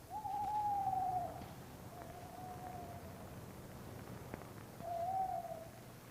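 A brown owl at a large nest box gives three drawn-out hoots, the first and last stronger and the middle one fainter, spaced over several seconds against a quiet night background.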